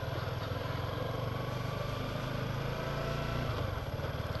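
An adventure motorcycle engine idling steadily and close, a continuous low pulsing throb with no distinct gear clunk standing out.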